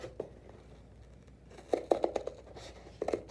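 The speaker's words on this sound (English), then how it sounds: "I'm just going to start cutting on this side" Scissors snip along the seam of a cardboard bookshelf insert, a few quiet, close cuts near the start, then a quick cluster of crisp snips, and another short burst at the end.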